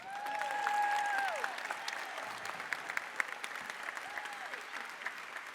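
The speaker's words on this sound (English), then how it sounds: "Receive your applause." Audience applause for drummers at a hospice fundraising breakfast event, a steady dense clapping that swells early and then holds. Sustained whistles or tones float over the clapping through the first half, and a brief one returns near the end.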